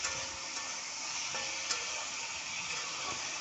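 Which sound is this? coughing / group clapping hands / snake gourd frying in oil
snake gourd frying in oil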